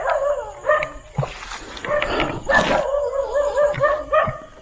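Several dogs outside bark, yip and whimper in irregular bursts, some closer and some more distant, fairly loud and mostly without talk.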